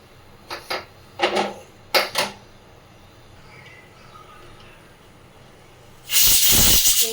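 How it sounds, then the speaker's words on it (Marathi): A pressure cooker with vegetables on a stovetop gives a few quiet clicks and rattles, then ends in a loud, close whistling hiss of released steam lasting about a second. "एक शिटी झाली."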